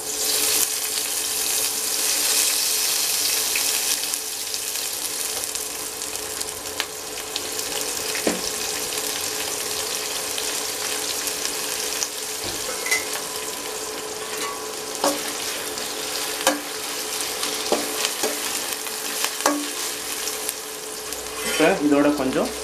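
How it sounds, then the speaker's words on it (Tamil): Cleaned, soaked dried anchovies fry in hot oil with a steady bright sizzle throughout, broken by occasional clicks and scrapes of stirring and a louder clatter near the end. "இப்போ எண்ணெய் காஞ்சிடுச்சு. இதில் வந்து நம்ம ஊற வச்சு சுத்தம் பண்ண நெத்திலி கருவாடை இதில்"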